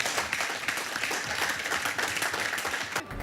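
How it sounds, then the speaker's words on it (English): An audience claps at a remembrance gathering for the Tutsi genocide, a steady wash of many hands applauding together, moderately loud and continuous, fading slightly at the very end. "Another round of applause for you"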